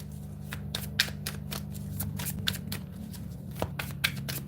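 Tarot cards being shuffled in repeated quick riffling bursts, close up, with soft flicks and snaps over a low steady hum.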